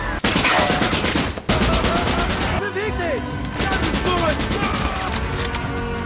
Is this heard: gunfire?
yes